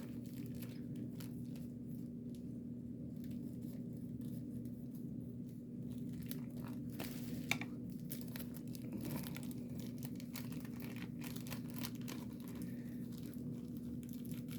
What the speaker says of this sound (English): Let me just get some scissors and ease these open right quick.